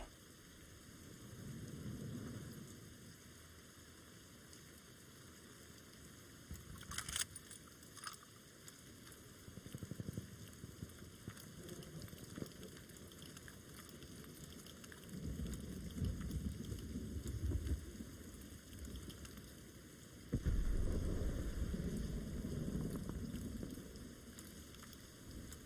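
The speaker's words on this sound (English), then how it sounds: "In the rain." Rain and rumbling thunder on the Gavutu map during an esports hardpoint match, a steady wash of rainfall with several low rolling thunder swells, the loudest near the end.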